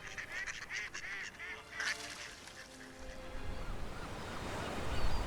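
A flock of birds honking in California, many goose-like nasal calls overlapping loudly in the first half, then fading under a rising rush of wind or water toward the end, with no talk.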